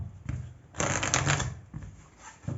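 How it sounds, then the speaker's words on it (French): A tarot card is drawn from a deck with a papery rustle and slide. A short quiet shuffle comes first, then one louder swipe of cards lasting about half a second, and softer brushing follows. "je vais vous tirer une carte"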